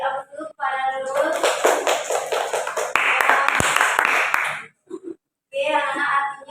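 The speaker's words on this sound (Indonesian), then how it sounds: "kita beri aplaus dulu kepada Nurul" Applause for a student named Nurul in a classroom teaching session: a burst of claps from a group of students lasting a few seconds, with speech before and after.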